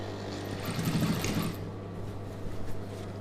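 A sewing machine stitches a chudidhar sleeve with a steady, close mechanical whir that runs through most of the stretch, slightly louder early on and easing later, with no voices.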